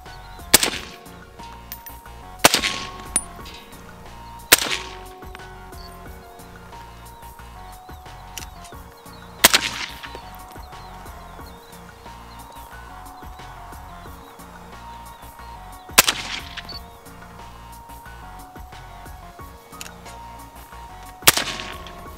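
Suppressed rifle shots from a gun fitted with a silencer, fired one at a time at a range: about seven sharp, muffled cracks spaced a few seconds apart, each with a short tail, standing alone without talk.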